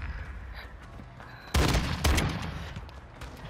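Loud bursts of gunfire in a fast-paced shooter game: a sharp volley, then a second burst half a second later, after quieter background game sounds, with no talk.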